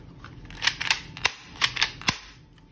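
An M-11 airsoft toy gun fires pellets as a string of sharp, dry snaps, about seven or eight shots in an irregular rhythm, some in quick pairs. They are close and crisp over quiet room tone.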